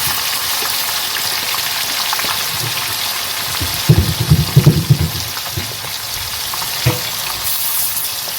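Chicken pieces frying in hot oil in a pan for Malabar chicken biryani, a steady sizzle throughout with a brief burst of louder bubbling and clatter midway and a single knock near the end.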